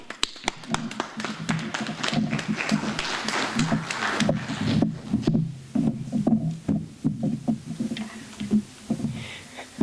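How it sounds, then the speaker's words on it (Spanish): A small audience at a support-group program claps to welcome a clinical psychologist to the stage. The claps are scattered and uneven, then thin out toward the end. "vamos a recibirla con un aplauso"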